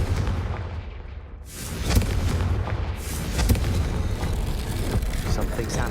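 A Confringo fire spell from Hogwarts Legacy bursts with a booming blast near the two-second mark, then a rumbling, crackling tail runs under game music and background noise.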